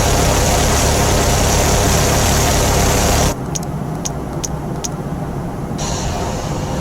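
A truck engine idles in the video game Teardown as a loud, steady low rumble that drops to a quieter drone midway, with a few faint ticks on top.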